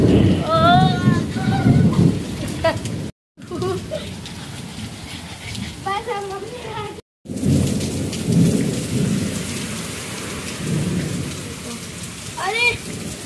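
Heavy rain pours down steadily while thunder rumbles, and voices talk over the storm. The downpour is loud and continuous, broken only by two brief silent gaps.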